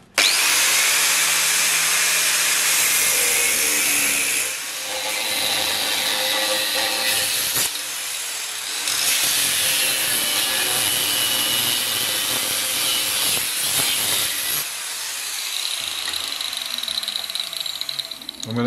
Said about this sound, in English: now I can cut it out with a baby grinder